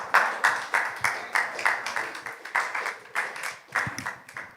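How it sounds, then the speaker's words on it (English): A small group claps for a few seconds, the claps arriving in uneven bursts, fairly close and moderately loud, with no voices. "Let's clap her up."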